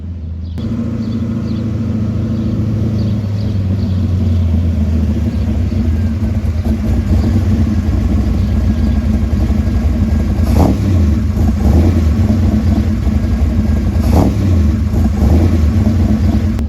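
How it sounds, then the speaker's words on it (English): A 1960 Ford Falcon street car engine rumbles steadily in a deep, loud idle, with throttle blips and revs swelling around the middle and near the end, heard close up with no talking. "Listen to that engine."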